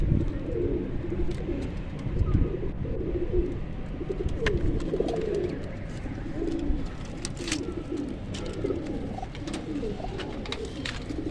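Breeder pigeons, including a Teddy pigeon pair, cooing in a loft. Steady overlapping low coos carry on close and continuously, with scattered sharp clicks and flutters on top.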